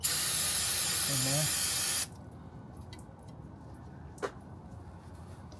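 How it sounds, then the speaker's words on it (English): A loud, steady spray of brake cleaner from an aerosol can hisses for about two seconds, then cuts off abruptly, followed by quiet room noise and a brief voice. "spray a little WD or brake cleaner"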